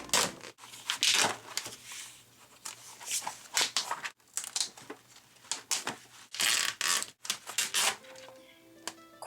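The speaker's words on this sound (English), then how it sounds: "Now for this plastic stuff, can we just appreciate the sound for a moment?" Plastic from a folder is cut and crinkled by hand, giving close, loud bursts of crackling and crunching with short pauses between them.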